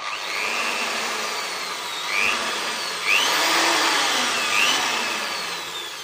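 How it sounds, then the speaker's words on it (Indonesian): An electric drill fitted with a 5 mm bit bores into a washing machine gearbox part, whirring loudly and close with a continuous drone and several brief rising pitch sweeps as the load shifts. "Caranya kita bor, kita ganti mata bornya"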